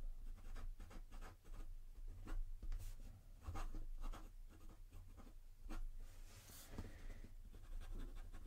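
A very fine, fairly dry Platinum fountain pen nib scratches across paper in quick, close strokes, a soft rhythmic scritching with brief pauses between words, heard alone and near.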